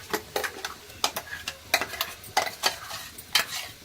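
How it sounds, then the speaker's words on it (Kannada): Ground masala stirred and fried in hot oil with onion and turmeric for chicken chops, a close, soft sizzle broken by repeated scraping stirs in an irregular rhythm, with no talking. "ಚೆನ್ನಾಗಿ ಮಸಾಲೆನ ಹೀಗೆ ಎಣ್ಣೆ, ಈರುಳ್ಳಿ, ಅರಿಶಿನದಲ್ಲೇ ಹುರ್ಕೋಬೇಕು"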